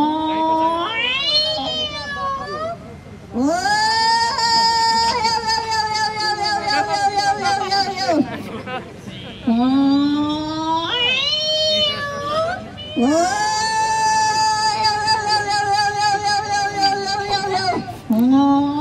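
A person vocally imitates a cat, producing long, loud, wavering meows and yowls in several drawn-out bursts with short pauses between them, alone without other talk.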